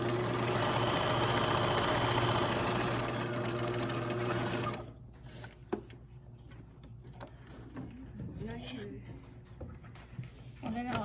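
A sewing machine runs steadily for about five seconds, stitching a 5/8 seam on a romper sleeve, then stops; afterward quiet handling noises and a person speaking follow.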